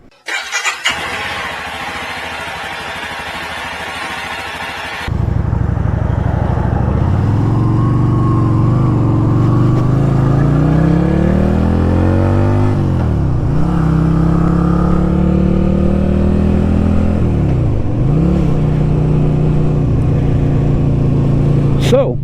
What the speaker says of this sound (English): We're going to take it for a little spin.